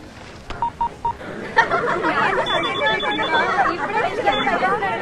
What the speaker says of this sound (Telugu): ప్రస్తుతానికి ఫోన్ చేస్తా.